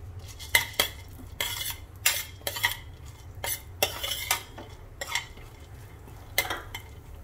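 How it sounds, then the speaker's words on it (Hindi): Seeds roast in a teaspoon of oil in a pan for gond and dry fruit ladoos, with a utensil stirring and scraping against the metal in repeated close, sharp strokes over a faint background hiss. "अब इसमें डालेंगे 1 टीस्पून ऑयल, और इनमें जो हमारे सीड्स हैं इनको भी रोस्ट कर लेंगे।"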